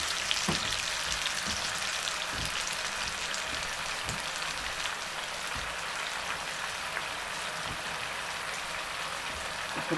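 Mackerel simmers in rice-wash water in a pot, a steady, dense bubbling and sizzling hiss that holds evenly throughout, with faint scattered pops and no voices.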